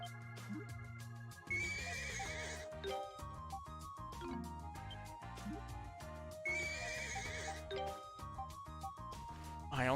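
A horse in the video game Ys: Memories in Celceta neighs twice over looping game music, with chiming tones and hoof-like clopping in the mix.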